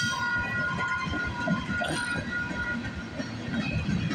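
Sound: freight manifest train passing on rails

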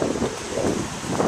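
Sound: strong wind at the beach, Kaena Point

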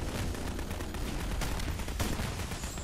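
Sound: gunfire at the boss in the Half-Life game

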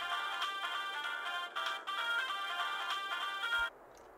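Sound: phone ringtone in GTA: The Ballad of Gay Tony video game

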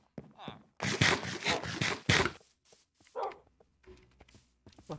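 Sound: dogs in Minecraft video game

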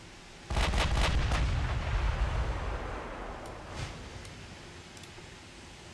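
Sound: naval gunfire hits in video game Ultimate Admiral Dreadnoughts

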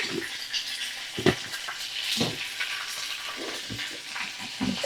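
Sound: frying food in a pan with salt

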